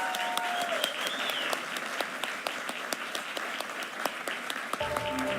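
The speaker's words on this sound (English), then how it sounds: "a rapturous round of applause for the winner of this award" An awards-ceremony audience bursts into sustained applause for an award winner at an XR awards show, dense clapping that stays steady and loud throughout.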